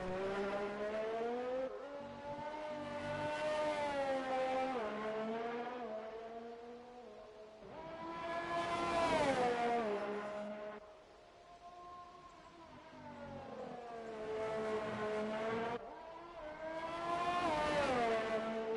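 A race car engine on a hot lap in a racing video game, screaming at high revs and rising and falling in pitch through gear changes and corners, loud and continuous for the whole stretch.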